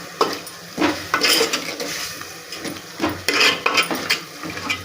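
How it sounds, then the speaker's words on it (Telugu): A utensil stirs salted dal curry in a cooking pot, giving irregular scraping and clinking strokes with a soft sizzle underneath, close and moderately loud. "ఉప్పు వేసి మంచిగా కలపాలా."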